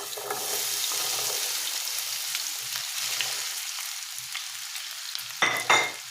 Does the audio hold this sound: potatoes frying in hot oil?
yes